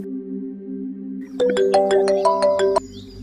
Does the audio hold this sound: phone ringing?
yes